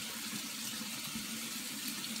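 Tap water runs steadily into a can for chili being simmered, a continuous even splashing rush, fairly close, with no talking.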